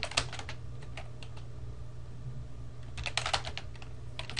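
Clusters of quick clicks on a computer keyboard, typed close by in short bursts with a quiet gap between them over a low background hum.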